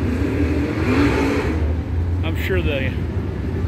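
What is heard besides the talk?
dirt track race car engines screaming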